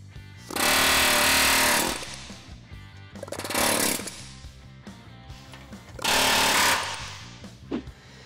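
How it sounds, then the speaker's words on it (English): An air hammer knocks a rivet off a Chevy S-10 frame in three loud bursts of rapid pounding, each lasting about a second, separated by pauses of low background hum. "we're gonna take our air hammer and hammer it off of there that way"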